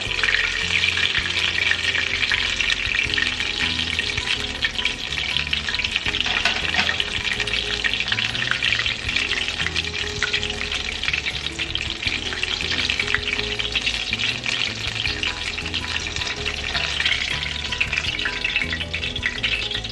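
Tex Mex egg rolls deep-frying in hot oil until golden give a loud, constant crackling sizzle that bubbles on without pause, close up and with no talking.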